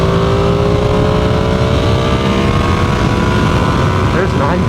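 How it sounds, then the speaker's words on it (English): A motorcycle cruising at about 100 with the engine held near 5,000 RPM, giving a steady engine drone and rushing road and wind noise throughout, with a brief rise in pitch near the end. "I'm really curious what this road noise sounds like."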